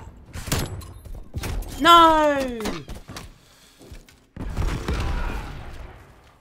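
Magnum pistol shots in a video game, a few sharp separate cracks spread across the clip, mixed with other game sounds and a shouted voice.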